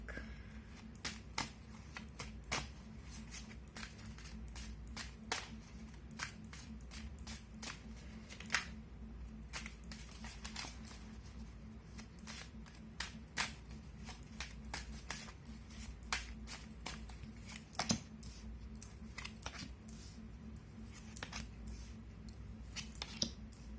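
Tarot cards being shuffled by hand, a steady run of crisp riffling and slapping card sounds over a low background hum, with no talking.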